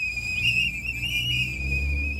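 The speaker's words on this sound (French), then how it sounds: "des sifflets pour alerter tout le voisinage" A sustained shrill whistle blown as a street warning that immigration police are nearby, holding a steady piercing tone for about two seconds with a second fainter whistle layered in and low traffic rumble underneath.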